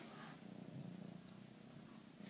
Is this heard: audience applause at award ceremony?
no